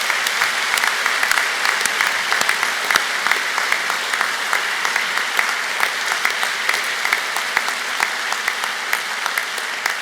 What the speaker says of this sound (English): I'd like you to join me now in giving them a warm round of applause to thank them.